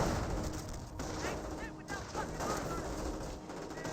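Infantry gunfire in Company of Heroes, including Assault Grenadiers, crackles in a dense, continuous battle din of overlapping shots, kept fairly low in the mix.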